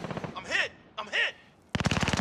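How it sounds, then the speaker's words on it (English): SMG fire in Call of Duty: Modern Warfare, a fast, evenly spaced burst of loud shots arriving near the end after two short whooshing sweeps, quick and rattling. "That's an SMG. It ain't got the range, bro."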